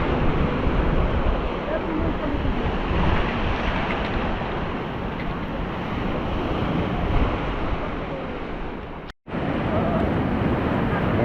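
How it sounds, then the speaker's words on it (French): Rough sea surf churns steadily under a rising wind along a rocky Mediterranean coast, a loud, continuous wash with wind buffeting the microphone, broken only by a brief dropout near the end. "Et la mer là est un peu, un petit peu agitée. Vu que le vent s'est levé"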